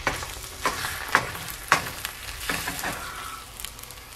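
Scrambled eggs frying and sizzling in a pan, broken up with a spatula as they cook, with a steady sizzle under repeated soft scraping and tapping strokes, close by.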